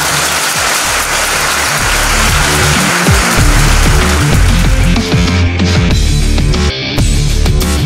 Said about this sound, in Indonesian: Kita berikan sekali lagi tepuk tangan.